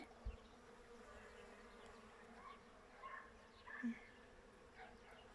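Bees buzz around a flowering almond tree covered in white blossoms, a faint, continuous hum with a few louder passes close by.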